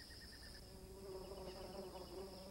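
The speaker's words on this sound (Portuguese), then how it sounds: "Em segundos, um grupo de vorazes moscas aparece, absorvendo a pegajosa seiva até que se cicatrize." A dense swarm of hungry flies buzzes continuously around sticky white latex oozing from a damaged tree, a steady close drone with overlapping wingbeat tones.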